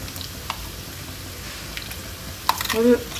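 Onions sauté in a pan with curry leaves, a low steady sizzle under the room noise, while a person talks near the end.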